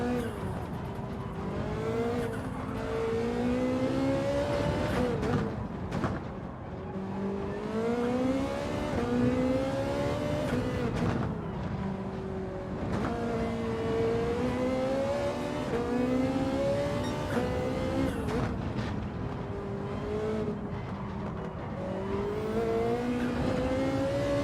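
Audi R8 racing through a video game circuit, its engine loud and constant with repeated rising and falling revs through gear shifts, plus occasional tire scrubbing; a voice is faintly present underneath.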